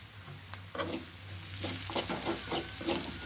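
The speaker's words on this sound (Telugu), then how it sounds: "ఇప్పుడు నెక్స్ట్ అయితే కరివేపాకు వేసుకుంటున్నాను కొంచెము" Curry leaves dropped into onions frying in hot oil sizzle and crackle, with stirring scrapes in the pan, close and steady for a few seconds, no voices.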